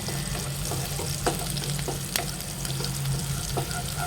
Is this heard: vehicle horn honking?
no